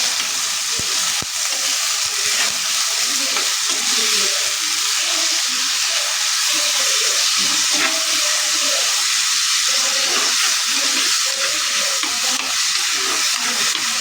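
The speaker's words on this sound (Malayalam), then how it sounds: "സാധനങ്ങളൊക്കെ ഇട്ട് വഴറ്റാം." Ingredients sauté in hot oil after mustard seeds have spluttered, producing a loud, continuous close sizzle with hissing steam and occasional stirring, with no talking.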